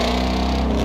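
Car engine from the 2017 racing game Forza Motorsport 7, a steady, loud, droning mechanical hum with a rich low rumble, held constant through a short moment.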